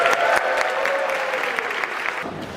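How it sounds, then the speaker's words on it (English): A crowd claps at a Pride event at New York City Hall, the applause loud and steady, with a few shouts mixed in, fading slightly toward the end. "Everyone give a round of applause for Councilmember Sanchez"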